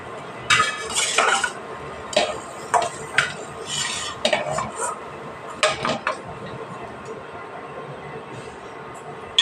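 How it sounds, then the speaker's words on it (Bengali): A metal strainer scrapes and clinks against a pan while fried palm fritters are lifted out of hot oil, in irregular bursts of sharp clatter over a constant background hiss. "আমি এবার এইভাবে তুলে নেবো ছেঁকে যাতে তেলগুলো বেরিয়ে যায়"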